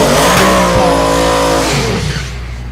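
A Corvette C6 race car at the Thunder Valley drag strip roars loudly with a high revving engine and a brief shift, the sound tapering slightly as it pulls away.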